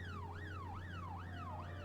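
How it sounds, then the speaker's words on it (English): A police van siren from the video game This is the Police wails in repeated rising and falling sweeps, about two to three per second, steady and alone over a low hum. "let's get the paddy wagon for these guys"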